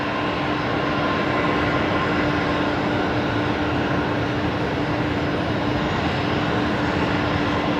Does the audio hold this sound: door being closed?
no